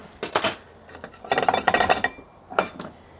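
Small metal measuring spoons clink and tap against jars and containers while garlic powder and cracked pepper are measured out in an off-grid Australian pantry, several short bright bursts in loose clusters with pauses between, close and fairly loud, no talking.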